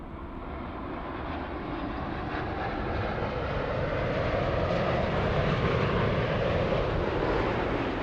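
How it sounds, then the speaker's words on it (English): A Japan Airlines Dreamliner jet arriving from Osaka, its engine roar a broad steady rumble that swells gradually as it draws nearer, with no voices. "this one, flying in from Osaka, another Dreamliner"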